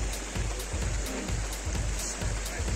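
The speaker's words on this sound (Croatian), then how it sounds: "Tu je dole. Vodopad." A waterfall down below, heard as a constant dense hiss of falling water with a patter like heavy rain, loud and unbroken, with no one speaking.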